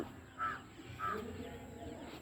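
Two short crow caws, a brief pause between them, heard at a moderate distance against a quiet background hum.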